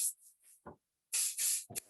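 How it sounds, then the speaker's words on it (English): Hair spray hisses during styling of a short graduated haircut: a few quick, faint puffs, then two longer, louder close bursts and a final short spritz, with no talking. "So get a little bit of spray or serum or whatever you want."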